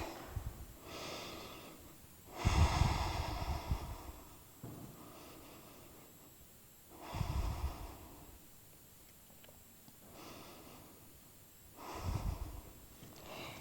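Slow deep breaths taken while resting in a Pilates stretch, chin or forehead down: four long, soft exhalations spaced a few seconds apart, close and breathy, with quiet pauses between and no talking.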